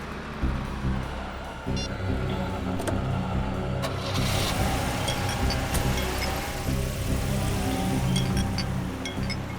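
A car engine hums steadily in the cabin while the vehicle is driven, with a continuous low rumble that stays fairly even throughout and faint road noise around it.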